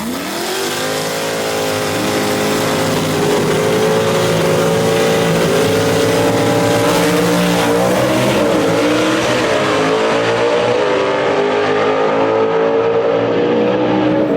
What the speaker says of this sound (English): Lynn, the number 9 qualifier, is going to be in the quick time performance lane in his 65 Chevelle wagon called the Little Red Wagon